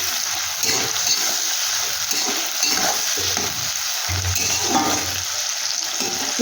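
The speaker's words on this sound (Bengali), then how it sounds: "একটু ভাজা ভাজা করে নিচ্ছি।" Sliced onions sizzle and fry with salt in a pan for a chicken kosha, with steady hissing and occasional stirring scrapes throughout, close and continuous.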